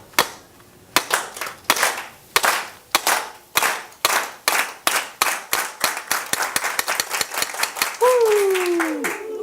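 Audience in a resort event room performing a rhythmic group power clap, sharp unison claps starting slow and accelerating into rapid clapping, then breaking into applause as a voice exclaims over it.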